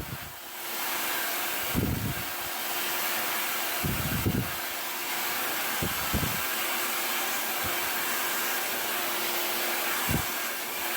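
Hair dryer blow-drying hair with a brush for vintage 1950s waves, giving a steady, close rushing whoosh throughout with a few brief low bumps and thumps as the brush moves, and no talking.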